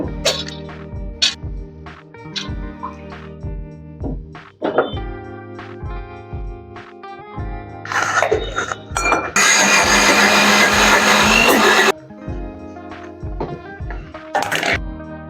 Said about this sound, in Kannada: ಈಗ ರುಬ್ತೀನಿ ಫ್ರೆಂಡ್ಸ್ ಬೇಳೆನ ಫಸ್ಟ್ ರುಬ್ಕೋಬೇಕು